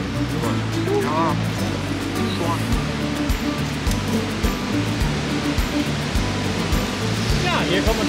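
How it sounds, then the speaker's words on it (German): Steady broadband rush of water at the Eisbach surfing wave in Munich's English Garden, loud and continuous throughout, with voices talking over it. "hier kommen wir zur sagenumwobenen Eisbach-Surferwelle"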